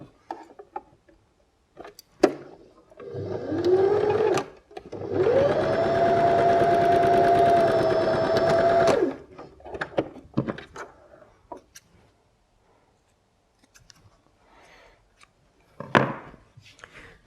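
A sewing machine zigzag stitching the seams of small doll's shorts gives one short whirring run, then a steady, louder run of several seconds with a high motor whine, followed by a few soft clicks and handling taps.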